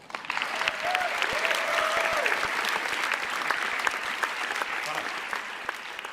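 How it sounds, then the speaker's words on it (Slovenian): Sustained applause fills the hall at a film festival closing ceremony, a steady wash of many hands with a voice briefly sounding over it early on. "Še en aplavz, prosim."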